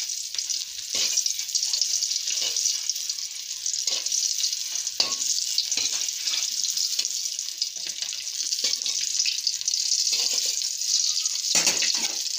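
Boiled eggs frying in hot oil seasoned with salt and turmeric, a steady, close hiss and sizzle with occasional stirring scrapes and spatula knocks throughout, no talking.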